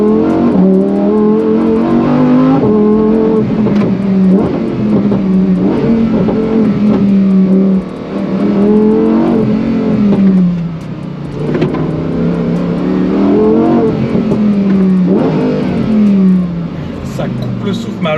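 A Lamborghini Huracan STO's engine revs and pulls hard through repeated gear changes, loud and close from inside the car, pitch rising and dropping in waves.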